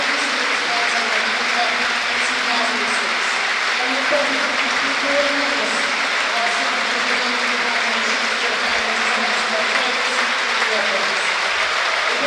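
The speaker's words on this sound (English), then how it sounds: "The applause begins even as the words are still being spoken over the PA system." Football fans at West Brom's stadium applaud steadily and loudly throughout, a dense wash of crowd clapping with faint voices and tonal murmur under it, continuous from start to finish.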